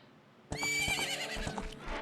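A horse in the video game Ocarina of Time whinnies loudly after a brief quiet start, a shrill rising-and-falling neigh with hoof clops underneath, close and clear.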